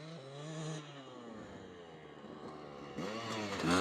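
A Yamaha YZ250 dirt bike fitted with a big bore kit to make it a YZ300 roars while being ridden, its engine note sweeping up and down through the gears before climbing to a louder rev at the end.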